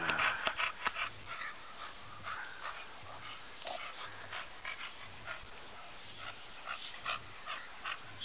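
Several dogs in a backyard whimper, yip and bark in uneven bursts, fairly close and steady throughout, with no talking over them.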